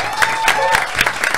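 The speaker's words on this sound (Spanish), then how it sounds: "Está bueno que la tribuna aplauda." Studio audience applause on an Argentine talk show, a short burst of dense clapping at close range, steady and lively for its whole length.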